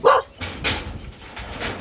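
A single short dog bark sounds near the start, fairly close and loud, then fades into quiet outdoor ambience by a river with faint background noise.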